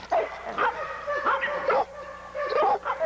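A dog in a kennel yard barks and yips repeatedly in excited, rising bursts, close and loud, with whiny tones between the barks and no people talking.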